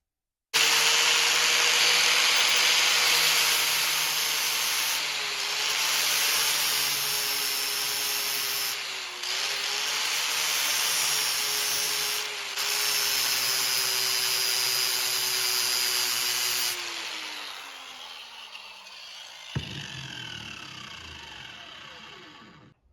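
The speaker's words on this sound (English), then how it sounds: "get out the grinder, and start doing some cutting" A grinder cuts through the chain of a 1990 Harley-Davidson Sportster 883, a loud, continuous high whine with a steady motor hum and brief dips as pressure shifts, then the motor spins down near the end.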